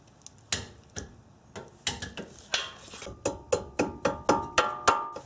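A torque wrench tightens ball joint bolts on a Honda, giving a series of sharp metallic ratcheting clicks, sparse at first and then faster and more regular, close by with no talking.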